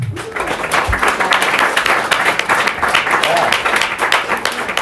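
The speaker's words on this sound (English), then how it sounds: "Let's give them a round of applause." An audience at a mentors' question-and-answer evening gives a round of applause, dense continuous clapping heard close and loud from start to finish.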